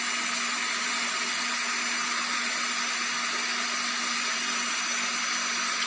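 A power drill runs continuously at a steady high-pitched whine while drilling a hole during a Ryzen 3900X PC build, loud and close with no pauses.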